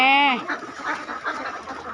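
Ducks caught at night quack in a brief, close call at the start, followed by softer mixed chatter from the flock and someone speaking.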